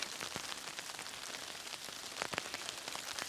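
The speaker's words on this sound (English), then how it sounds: "As you guys can hear, it's raining away." Steady rain pattering on a surface nearby in a mountain forest, with scattered heavier drops tapping out irregularly against a constant soft hiss.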